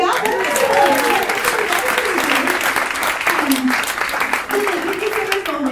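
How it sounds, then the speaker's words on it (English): Audience applause fills a comedy club during a stand-up set, a steady dense clapping that runs loud throughout, with voices and cheers mixed into it. "Can we clap it up for that?"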